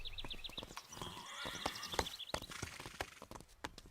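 Cartoon horse Pepper, agitated, gives a shrill whinny over busy hoof clatter and thumps, close and fairly loud, with further snorts and hoofbeats around it.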